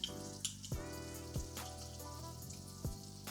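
Minced garlic sizzles in buttery spread in a pan over medium heat, a soft steady frying hiss broken by a few low knocks and taps, quiet and close.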